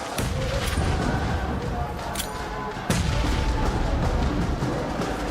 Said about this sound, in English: So let's look for these nades.